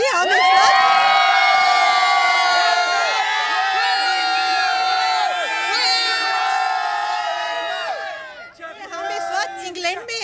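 Dense crowd of Indian sports fans in Birmingham, England, at the 2022 Commonwealth Games, cheering and shouting together loudly and continuously, thinning into scattered voices near the end.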